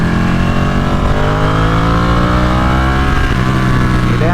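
Motorcycle engine running steadily while riding, a loud continuous drone with harmonics whose pitch slowly climbs and shifts through the clip, no voices.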